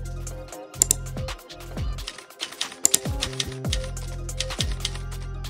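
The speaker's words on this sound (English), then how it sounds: "Then we need to type password." A password being typed on a computer keyboard, clusters of quick sharp key clicks with brief pauses between bursts, close and clear with no voices.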